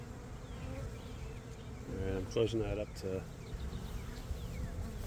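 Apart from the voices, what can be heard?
honey bee swarm buzzing around a hive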